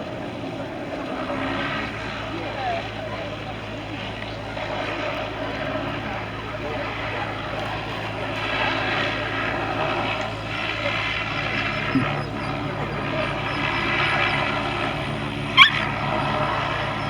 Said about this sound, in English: Auto gyro taxiing down, take off